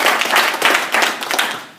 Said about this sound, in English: We give yourselves a round of applause right now.